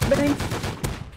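Rapid gunfire and a flashbang in the video game Rust crackle in quick close bursts, with a sharp burst near the end.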